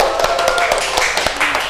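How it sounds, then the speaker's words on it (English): Hand clapping from a small classroom group after a microteaching lesson, a brief run of sharp, evenly spaced claps that sound close and loud. "give applause for us"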